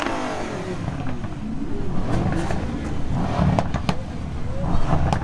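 A Ferrari engine revs at a large outdoor car meet, rising through a few throttle blips over crowd murmur and ambient chatter, fairly close and loud.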